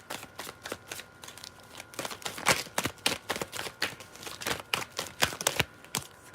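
A deck of tarot cards is shuffled repeatedly, giving a run of crisp riffling and flicking bursts in an uneven rhythm, close and fairly quiet, with no speech.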